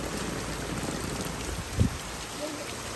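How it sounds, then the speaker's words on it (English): Steady rain patters on the surface outside a greenhouse, a dense continuous hiss with one brief thump partway through, and no talking. "I wanted to play in this rain"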